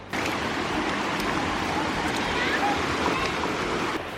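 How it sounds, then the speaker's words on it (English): Steady, broadband rush of a Hawaiian waterfall heard from partway along the trail, a continuous loud wash of falling water with no breaks. "A little over halfway there, we can hear the waterfall."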